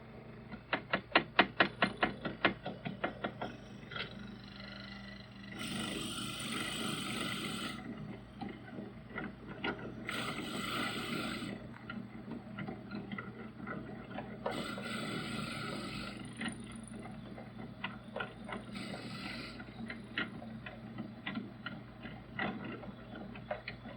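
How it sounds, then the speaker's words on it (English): A lathe whirs with rapid mechanical ticking, broken by several bursts of harsh, grinding drilling noise into a wood pen blank. "and then continue drilling"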